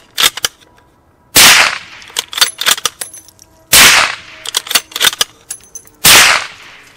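Three suppressed shots from a .375 Raptor pistol firing 270 grain projectiles, each a sharp, loud crack with a brief echoing tail, spaced roughly two and a half seconds apart, with clicks and handling noises between them and no talking.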